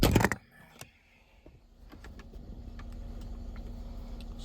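Steady idle of a 2014 Mercedes-Benz ML350 engine during a transmission oil change, a low even hum settling in after a few opening clicks and clatters, close and continuous with no talking.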